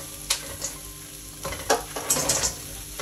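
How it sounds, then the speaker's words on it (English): Aubergines tipped into a hot wok with chilli flakes, the heat just switched off, hiss and crackle in short bursts, with a few sharp stirring clatters up close and no talking. "Put in all the aubergines quickly,"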